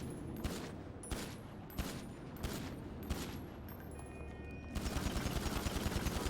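Gunshots from a weapon being tested in Grand Theft Auto V on a NoPixel server, first spaced single shots about every two-thirds of a second, then a fast automatic burst at the end, fairly quiet overall.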